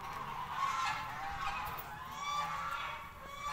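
Free-roaming ducks at a rural house in Garut give repeated nasal honking calls, faint and moderately distant over a steady background.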